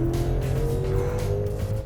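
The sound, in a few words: car accelerating hard in sport mode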